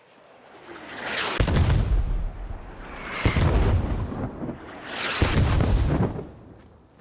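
Three mortar salvo impacts in the military shooter Squad, each a loud rumbling blast that swells and slowly fades, spaced about two seconds apart.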